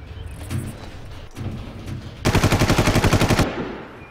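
Automatic gunfire in the video game Far Cry, a close, loud burst of rapid shots lasting about a second, with a few scattered quieter shots before it.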